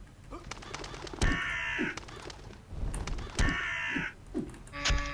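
Ravens in the video game UnEpic give two harsh, loud cawing calls a couple of seconds apart, with softer bird-like chirps and a short tonal chime near the end.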